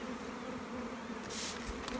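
Honey bees buzz around hives while weak colonies are merged onto strong ones, a steady droning hum with a brief louder swell as one passes close, otherwise fairly faint.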